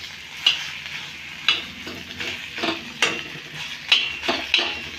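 Onions frying in oil on a tawa, stirred with a utensil: a steady sizzle runs under repeated sharp scraping strokes of the spoon against the pan, about one a second, close and fairly loud, with no talking.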